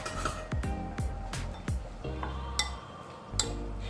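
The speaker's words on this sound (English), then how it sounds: "You'll mix your onion and your cucumber together" A spoon knocks and scrapes in a bowl while onion and cucumber are mixed for a cucumber and onion salad, giving a series of light clinks and taps in an irregular rhythm.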